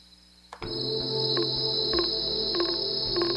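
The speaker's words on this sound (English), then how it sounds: "you can already hear the crickets are a little bit loud" Loud, steady high-pitched cricket chirring fills the air without pause, over soft, faint lower background sounds.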